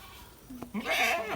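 A baby Ram goat kid bleats on a farm, one clear wavering cry that rises and holds after a short quieter call, fairly close and alone.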